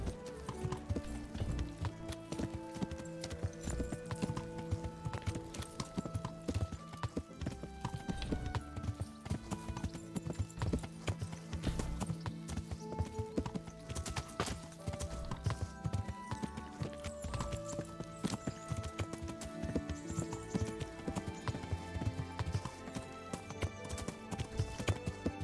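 Horse hooves gallop in a steady, rapid clip-clop rhythm throughout a ride in the medieval video game Kingdom Come: Deliverance, with faint game music underneath.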